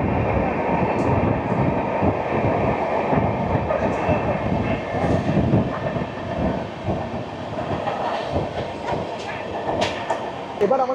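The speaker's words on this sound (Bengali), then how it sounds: "আমাদের ট্রেন পার করবে ডানকুনি জংশন" Sealdah-Bikaner Duronto Express passing Dankuni Junction, a loud continuous rumble and rhythmic wheel clatter heard from onboard, with some voice-like murmur in the background.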